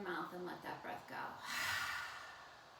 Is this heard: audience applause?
no